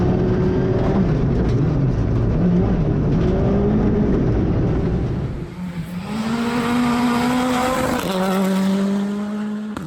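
A Hyundai i20 R5 rally car drives past close by on a test run in Tasmania, its engine rasping loudly and steadily, then dropping and climbing again through gear changes with rising, whining revs and a faint tire scrub.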